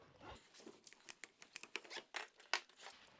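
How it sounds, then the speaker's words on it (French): Scissors snip through a plumbing conduit sheath during a manifold hookup in a series of quick, close, crisp cuts and rustles, with no talking. "Je coupe ma gaine"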